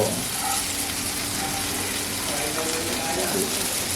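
Lepa sole fish frying in a pan of oil, a steady dense sizzle and crackle with no clear breaks, close and fairly loud throughout.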